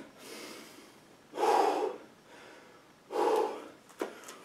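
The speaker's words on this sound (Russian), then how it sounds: "Ух, перехватило дыхание." Heavy, gasping breaths right after a kettlebell press workout: two loud, drawn-out exhalations about two seconds apart, quieter panting between them, and a short sharp snort at the end, with no talking.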